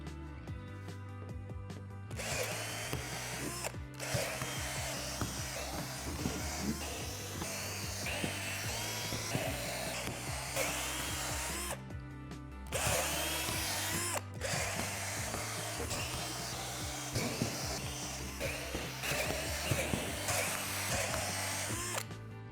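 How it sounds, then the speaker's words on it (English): A power drill with a 3/8 bit bores out divots in a plastic deck panel for a swing set, whining and grinding steadily at close range with a few brief pauses, and no talking. "drill out the 12 divots on each panel with a 3/8 drill bit"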